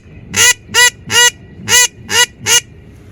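A hand-blown teal duck call imitating a blue-winged teal gives six loud, evenly spaced raspy honking notes in a steady rhythm, close and clear with no talking.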